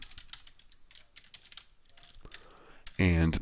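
Keys clatter on a computer keyboard in a quick series of light clicks, first faint and scattered, then a louder close burst at the end.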